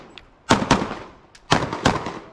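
Four sharp gunshots at an outdoor shooting range, fired in two quick pairs about a second apart, loud and close with a short echoing tail.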